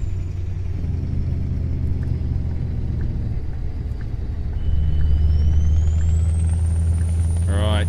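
Mack Titan Superliner truck engine in Euro Truck Simulator 2, a deep steady diesel rumble that swells louder partway through as it pulls harder, with a rising whine and a brief hiss of air near the end.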